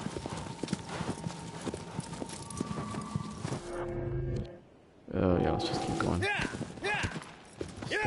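Brisk hoofbeats clatter steadily in a game, with a neigh and a brief lull partway through, while a voice talks over the sounds.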